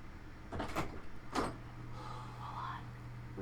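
A door opening indoors as someone arrives, with a couple of sharp knocks and rattles followed by a low hum and faint murmuring voices.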